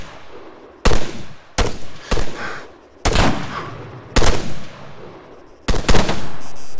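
Bursts of machine gun fire in a military video game near a radio tower: about seven loud, sharp volleys spaced a second or so apart, each trailing off into a rumbling echo, with almost no talk.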